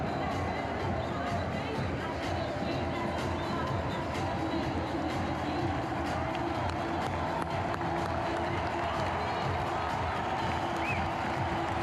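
A World Cup semifinal stadium crowd in Qatar applauds Morocco after their 2-0 loss to France, dense clapping and cheering spread evenly and continuously throughout, large and somewhat distant with a murmuring babble underneath.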